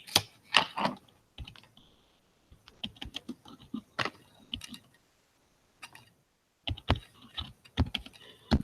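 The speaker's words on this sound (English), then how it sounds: "So that's why I was typing slow." Typing on a computer keyboard in a dark room: irregular bursts of close, crisp key clicks broken by short silent pauses, with no talking.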